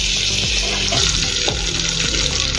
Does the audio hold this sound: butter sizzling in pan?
yes